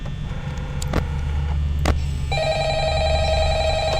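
A telephone rings in the video game Five Nights at Freddy's, with a steady electronic ring tone that starts partway through and holds over a low ambient hum, with a couple of brief clicks before it.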